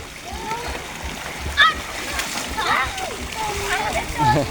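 People splash and play in water at a water park in Si Sa Ket, with scattered splashes and sloshing under children's and adults' voices nearby.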